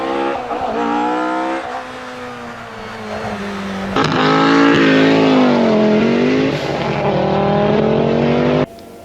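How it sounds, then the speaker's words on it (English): An Audi Quattro rally car drives hard on a rally stage, its engine loud and close as it revs, shifts and pulls through changing pitch, with a sharp cutoff near the end. "The number 1 Audi Quattro, Zippo and Dennis Pacino was soon setting th"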